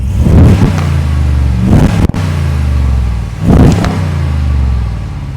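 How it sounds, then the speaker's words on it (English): A warm 2022 Jeep Wagoneer's Hemi V8 is revved while parked, two strong throttle blips rising over a deep steady idle, close and loud with no talking. "And that's what the Hemi sounds like."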